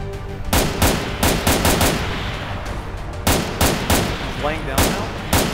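Rifle and machine-gun fire from ARMA 3 cracks in loud, sharp bursts, single shots and rapid strings spaced irregularly across the clip, close and punchy with a brief tail after each report.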